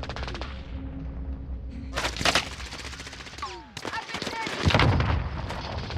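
Gunfire in the video game Call of Duty: Modern Warfare Warzone comes as bursts of close, loud automatic shots in two clusters, with a sweeping whine between them.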